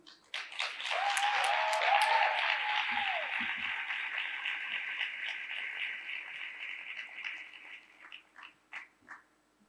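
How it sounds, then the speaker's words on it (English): Audience applause for a storyteller at a conference plenary, a full round of clapping swelling quickly and holding before thinning to a few scattered, separate claps at the end, with a brief voice early on. "Please give Jasmine another warm round of applause"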